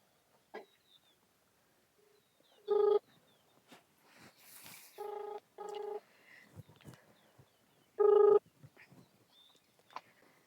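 A phone ringback tone during an outgoing call, three loud, short, buzzy rings spaced a couple of seconds apart, with quiet background rustles and faint clicks between them.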